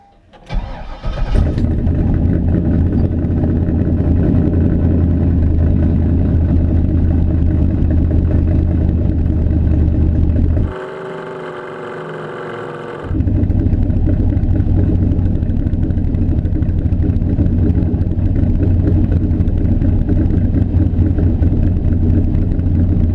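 A car engine cranks and fires, then settles into a steady loud idle. It cuts out briefly and restarts, with no talking.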